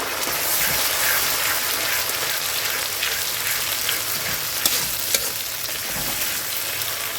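Ground spice paste fries in a pan for Bengali egg curry, a dense, continuous close-up crackle and sizzle with occasional light stirring taps, steady and loud throughout.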